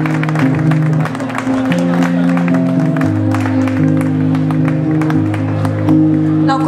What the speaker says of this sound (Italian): Quindi un grande applauso forte.